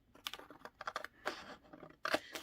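Scissors snipping through paper to cut out a journaling card, a quick series of faint, close crisp cuts and rustles.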